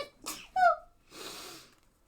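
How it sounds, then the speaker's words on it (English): A single sneeze: a sharp breathy intake, a brief voiced burst, then a trailing hissy exhale, close and fairly quiet. "I have to sneeze"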